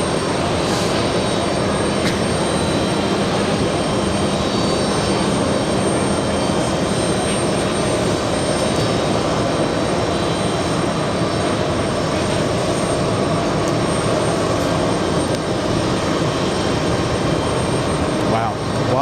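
A jet airliner passes at JFK airport, its engines giving a steady, loud, broadband roar that holds evenly for the whole stretch without fading.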